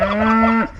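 A single close, loud cow moo, a steady low drawn-out tone that cuts off abruptly.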